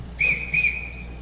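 A sharp, high whistle signal calls children to come, two short bright blasts followed by a sustained held tone, loud and close with nothing else heard.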